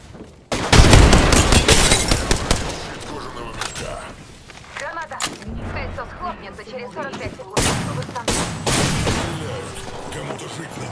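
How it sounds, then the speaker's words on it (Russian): A loud grenade blast erupts early in a chaotic shooter firefight, followed by bursts of gunfire, further booms and scattered footsteps, with a voice speaking between the shots. "Граната!"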